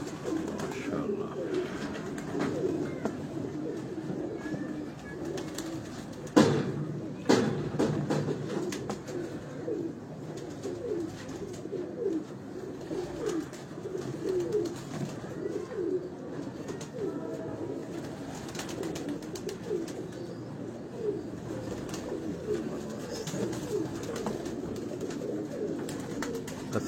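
Pigeons, including large Dubai-bred birds, coo softly on a Lahore rooftop at night, a repeated low rhythmic burble continuing throughout, with a brief rustle or flutter partway through.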